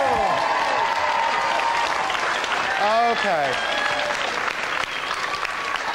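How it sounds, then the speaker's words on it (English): Audience applauding and cheering for a Touch The Truck contestant, a dense, loud wash of clapping and crowd noise throughout, with a brief spoken exclamation and a rising whoop midway. "Come on, give him a cheer."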